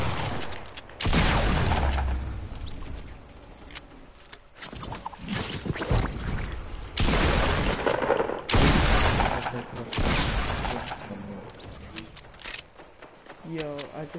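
Gunfire plays during a PS4 shooter game session. Loud bursts of shooting come in several separate volleys, mixed with game noise and overlapped by people talking.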